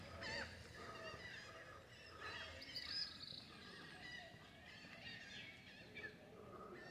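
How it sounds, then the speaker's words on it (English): Birds calling and chirping around a beach resort at Playa Cayo Santa Maria, faint high calls scattered over steady outdoor ambience with distant crowd murmur. "You'll hear a lot of birds all day"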